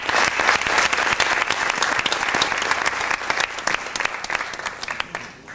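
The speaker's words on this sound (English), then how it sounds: "Can we not give him a round of applause?" A large audience breaks into sustained, dense applause at a speaking event, loud and steady throughout, gradually thinning toward the end.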